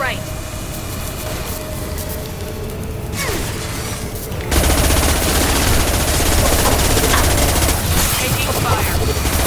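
Dense, continuous gunfire in the shooter game Mass Effect Legendary Edition, loud sustained bursts that swell after a few seconds, with voices talking over the combat.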